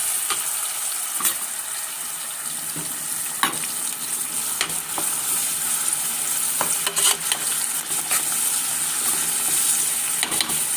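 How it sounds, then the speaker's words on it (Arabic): Tomato and chili sizzle steadily in hot oil in a pan while a utensil stirs them, with scattered scraping clicks and small pops over the constant frying hiss. "ونقلبهم برده لحد ما تدبل معاه"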